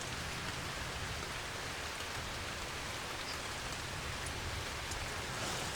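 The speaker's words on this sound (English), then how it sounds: "the worst of the rain has passed." Steady rain falling in Scotland, a dense, continuous hiss of drops on surfaces that stays even and fairly loud throughout, with no voices.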